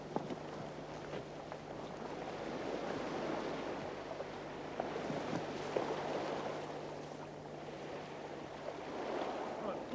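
White water on Lake Te Anau in Fiordland, a faint, continuous wash of waves and wind heard from a small boat, low and distant-sounding, with a few light splashes.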